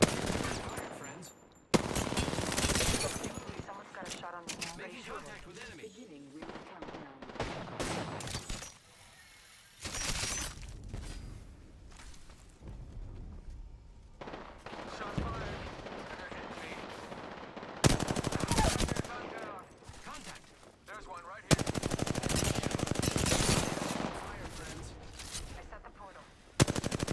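Video game combat with rapid bursts of automatic gunfire and sharp shattering impacts, loud and dense, alternating with brief lulls and a little quiet talk.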